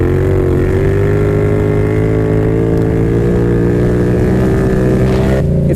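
A Yamaha FZ-07 motorcycle engine roars loudly and close during a wheelie, holding a sustained high rev with a steady droning tone before a sharp change near the end.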